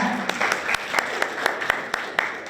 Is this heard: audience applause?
yes